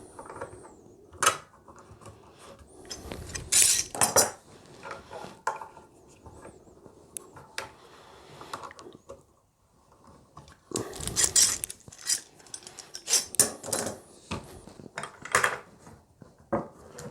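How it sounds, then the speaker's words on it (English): Clamps come off a freshly glued Rickenbacker 620/12 twelve-string guitar body in two bursts of knocking clunks, clicks and rattles, fairly close, with quieter handling noise between and no talking. "we'll just get these clamps off"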